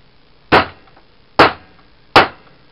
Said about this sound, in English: first about a little whack here with the hammer and we'll see how that cuts